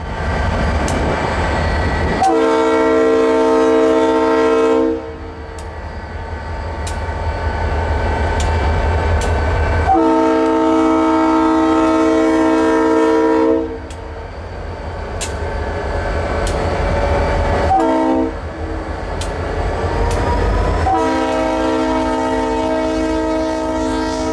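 Kansas City Southern LL49 locomotive running light power toward Arcadia, sounding its horn in three long, loud chord blasts with heavy diesel rumble underneath as it passes close by.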